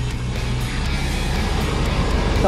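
Cars pass along a road during an uphill bike ride, a steady loud rumble of traffic that builds slightly toward the end, with no talking.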